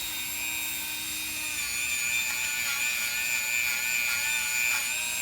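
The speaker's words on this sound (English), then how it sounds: "try and clean this up with my Dremel tool here while I got it open" Dremel rotary tool grinding corrosion off a Honda XR100 motorcycle wheel rim, a close, continuous high-pitched whine with faint wavering as the bit works the metal, no talking.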